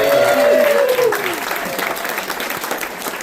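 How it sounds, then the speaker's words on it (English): A crowd applauding, loud at first then tapering off over a few seconds, with a voice briefly over the clapping. "one more round of applause for Narky"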